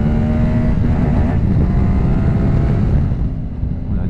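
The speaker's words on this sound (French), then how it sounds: "ce petit moulin qui se révèle très pétillant et qui sonne plutôt pas mal en plus" A QJ Motor SRT 600 SX motorcycle engine roars continuously at high revs with wind buffeting the microphone, loud and close, easing slightly toward the end.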